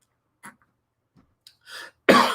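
A short, rough throat clearing, loud and close, preceded by a few faint breaths and small mouth noises in an otherwise quiet space.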